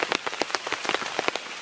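Rain patters onto a tent pitched for camping at a temple ruin in Prey Lang forest, Cambodia, a dense run of close, sharp drop hits with irregular rhythm and no voices.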